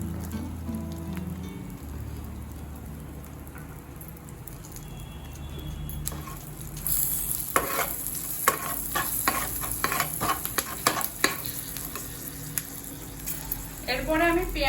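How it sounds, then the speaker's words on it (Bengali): Green chillies and cumin frying in hot oil in a pan while cooking paneer butter masala, a quiet hiss at first that jumps into louder, crackling sizzle and spatter partway through. "আর কাঁচা লঙ্কা দুটো দিয়ে দেব।"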